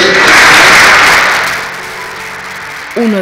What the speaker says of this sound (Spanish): si da un aplauso muy fuerte